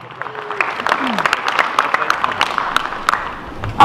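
Wedding guests clap under a voice over a loudspeaker, the scattered applause fairly close and moderate in volume.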